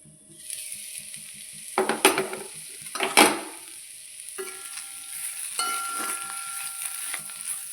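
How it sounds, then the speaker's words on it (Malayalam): Mushroom curry with chili powder is stirred in a pan: a few sharp clanks of a spoon against metal, then a quieter sizzle and soft scraping, close by and without speech. "നന്നായി ഇളക്കി യോജിപ്പിച്ച് മൂടി വയ്ക്കാം."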